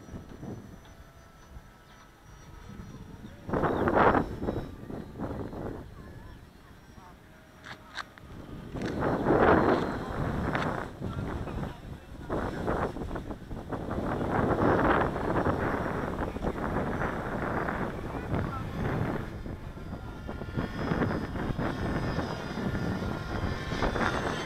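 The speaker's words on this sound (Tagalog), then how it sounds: "Malakas na hangin masyado." Strong wind roars and buffets the microphone in gusts, building louder after the first few seconds and staying heavy throughout, with no one speaking.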